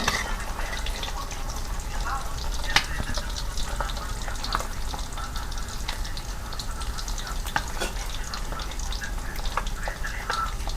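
Small wader fish fry in hot oil, a steady crackling sizzle with frequent sharp pops and spatters that runs evenly throughout, fairly close.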